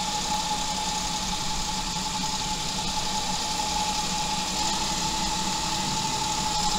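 Mahindra 2555 tractor engine running steadily and loudly close by, with a strong mid-range engine tone and a constant drone; any rise in RPM is slight, with no voices.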